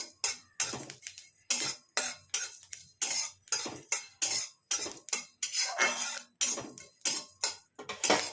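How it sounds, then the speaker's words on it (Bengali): Spices dry-roasting in a pan for mango chutney, a regular series of scraping, clinking stirs repeating about twice a second, close and moderately loud. "শুকনো খোলা সেঁকে শাঁকছি এটা"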